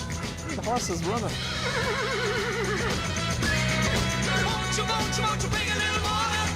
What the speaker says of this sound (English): The horse is running.